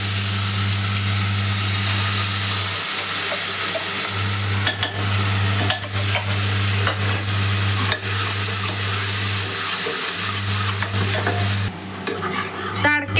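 Masala for a potato and soybean curry roasting in a pan while a spoon stirs and scrapes it, a loud steady sizzle with repeated scraping strokes and a constant low burner hum beneath, no talk.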